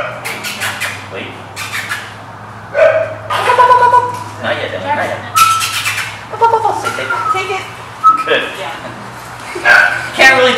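A dog barks in short bursts during a leave-it and take-it training session, with people talking and giving commands throughout.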